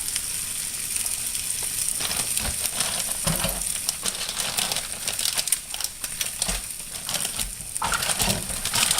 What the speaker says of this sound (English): you can pour the cheese right on the egg while it's in the frying pan